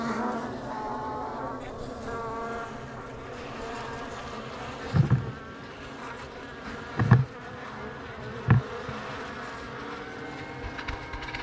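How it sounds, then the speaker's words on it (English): A large honeybee colony inside a small door hums in a steady, dense buzz throughout, with a few short louder knocks or bumps breaking through near the middle. "I can tell there's a decent amount of bees,"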